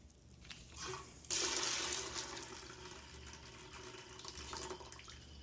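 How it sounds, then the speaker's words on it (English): Water rushes out of an opened boiler overflow valve during a pressure relief valve replacement. A sudden loud gush starts after a quiet moment, then runs as a steady, slightly fading splash. "I'm just going to open the overflow valve until I get the pressure down to 0."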